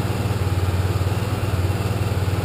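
A Honda 250 motorcycle engine idles with a steady, low pulsing thrum, even and close, with no one talking.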